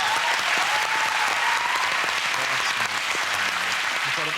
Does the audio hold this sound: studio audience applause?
yes